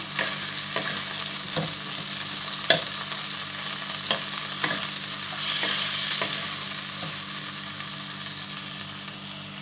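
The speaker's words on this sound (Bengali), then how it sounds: "টমেটোটা আমি 1 মিনিট নেড়ে নিয়েছি" Onions and chopped tomato fry in a pan for a Bengali fish curry: a steady, loud sizzle with a spatula scraping and knocking at a slow, regular pace, without voices.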